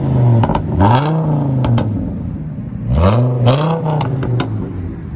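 A straight-piped 2006 Chevy Colorado with a 3.5L inline-five revs twice, each blip climbing sharply and falling back, loud and close with a raspy idle burble in between.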